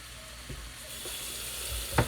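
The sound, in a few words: rinsing raw chicken under the kitchen tap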